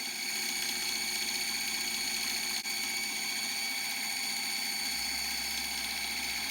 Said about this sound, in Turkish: Motorumuz 896 devir dönüyor